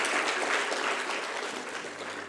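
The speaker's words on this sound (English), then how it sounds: "A round of applause, ladies and gentlemen," A brief round of applause rises from a seated audience at a business mentoring session for a guest mentor, moderately distant and fairly even, holding steady for a couple of seconds.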